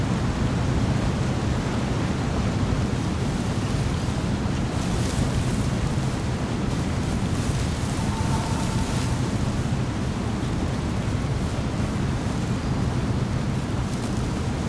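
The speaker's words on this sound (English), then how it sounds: "But it looks like that waterfall dumps off a cliff." Steady, dense rushing roar of a waterfall plunging off a cliff in the dinosaur survival game The Isle, continuous and fairly loud throughout with no voices.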